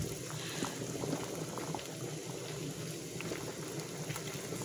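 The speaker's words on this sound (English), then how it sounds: "Just very carefully drop them in and we're going to go ahead and let them cook." German potato dumplings simmer in a pot of boiling water, a steady soft bubbling and fizzing that holds constant throughout at a low, close level.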